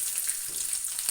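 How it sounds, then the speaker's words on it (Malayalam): Garlic sizzles in hot oil for an oats dish, a steady, close, bright frying hiss that holds evenly from start to finish with no voices. "വെളുത്തുള്ളി ഇടുവാണ്."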